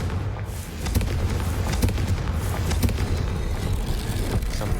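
A Confringo fire spell blast in Hogwarts Legacy, Salazar Slytherin chapter: a steady, roaring fiery rush with booming crackle that swells after a brief dip and holds loud throughout.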